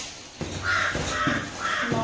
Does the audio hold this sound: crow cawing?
yes